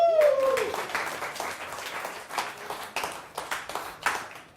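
An audience applauds a volunteer called up to help with a card trick, a scattered round of clapping that holds at moderate level and tapers off, with a short whistle-like tone at the start.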